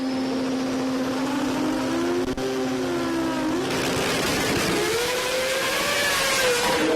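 A drag race car with a 2JZ engine launches and accelerates at a street performance meet, its engine note rising and shifting pitch through the run, loud and continuous.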